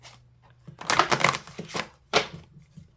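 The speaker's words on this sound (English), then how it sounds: "that was an interesting shuffle." Tarot cards being shuffled by hand during a card reading, heard as a few abrupt, close riffling bursts separated by short pauses, with no talking over them.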